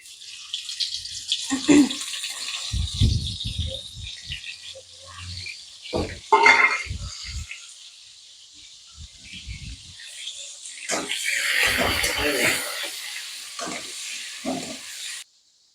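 Pointed gourd (potol) pieces dropping one by one into a little hot oil in a wok, with bursts of sizzling and stirring that flare up and fade, loudest near the middle and end.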